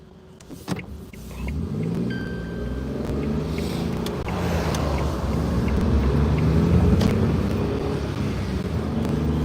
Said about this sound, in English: Look, there's so many cars in front of me.